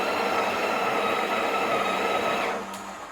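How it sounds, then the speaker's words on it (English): A Breville Oracle BES980 espresso machine's built-in grinder grinds coffee beans with a loud, steady whirring buzz close by, then slows and fades near the end as the motor winds down. "You only want to change the grind size as the grinder motor is spinning."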